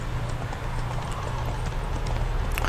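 A horse gallops in The Witcher 3 with a fast, steady clip-clop of hooves close by, a continuous rhythmic pounding over low ambient rumble.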